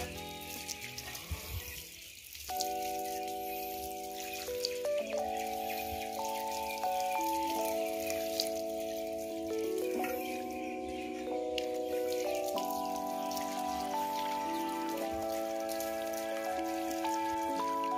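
Water rinsing an old motorcycle clutch cover, a steady spattering splash running continuously beneath a louder melodic background music track.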